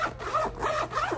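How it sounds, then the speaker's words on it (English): Zipper on a clear plastic toiletry bag pulled in several quick rasping strokes, close and fairly loud with a ridged, buzzing texture, no talking over it. "Zipper"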